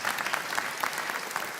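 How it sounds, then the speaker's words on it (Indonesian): An audience claps together at an Indonesian religious gathering, a dense steady burst of applause lasting under two seconds. "Tepuk tangan buat Bu Herlin."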